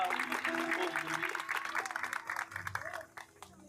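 Applause from a Catholic parish congregation at Sunday Mass, moderately loud continuous clapping that thins and fades out near the end, with some voices underneath.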